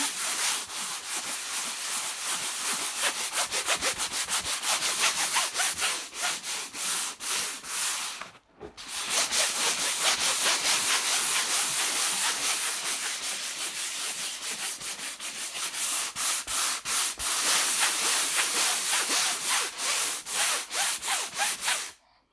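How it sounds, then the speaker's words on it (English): A painted couch finished in chalky Velvet Luxe paint is hand sanded with fine 320 grit sandpaper, steady close rhythmic rubbing strokes running continuously, with one brief pause midway. "320 grit sandpaper is a really, really fine sandpaper, and it's just going to almost like polish and soften."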